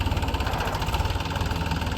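A tractor engine runs on a farm field being prepared for planting cauliflower, a loud, steady close-up chugging idle with even rapid pulses and no voices.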